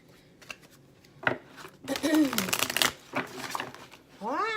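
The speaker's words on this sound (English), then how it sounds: "Okay, let's keep shuffling, because that was probably just me messing up." Tarot cards being riffled and shuffled, with papery flicks and bursts of card noise. Some cards slip out partway through, and speech-like voice sounds come in near the end.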